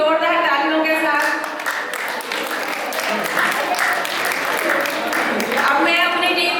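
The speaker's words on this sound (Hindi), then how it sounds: "एक बार सभी जोरदार तालियों के साथ" A crowd at an Arya Samaj annual celebration in Rohtas Nagar gives loud, sustained applause, while a voice carries on over the clapping throughout.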